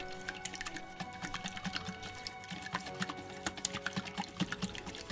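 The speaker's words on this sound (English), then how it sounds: "And then whisk it all together." Batter for Japanese steamed bread (mushipan) is whisked in a bowl, a quick run of light, rhythmic clicking and tapping strokes that continues steadily at close range, fairly quiet.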